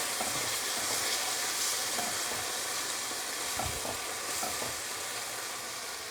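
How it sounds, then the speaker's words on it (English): Cayenne pepper being stirred into a hot frying pan, giving a steady, close sizzle with faint scraping stir sounds throughout and no talking. "One more ingredient, cayenne pepper. I've got about 1/2 teaspoon in here, and I'm not even going to use that much. Stir that around."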